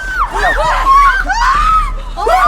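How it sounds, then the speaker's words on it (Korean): Students in a Korean school drama scream and shout together, a sustained, loud burst of high-pitched overlapping cries from a gathering group, fairly close, with no clear speech. "유정의 비명소리에 학생들이 전부 모여듭니다."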